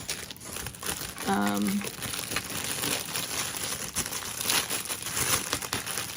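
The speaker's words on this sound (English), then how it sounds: "Let me take it out of the plastic." Crinkly plastic packaging rustles and crackles as an item from a cat-themed subscription box is unwrapped, close and steady, with a short tonal squeak partway through.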